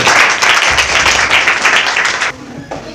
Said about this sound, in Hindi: तो ताली बजाइए इसके लिए भी